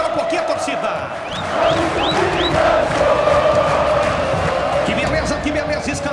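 A large football crowd of about seven thousand fans fills a packed stadium, a loud, continuous roar of voices with chanting and whistles swelling and holding throughout, with no commentary over it.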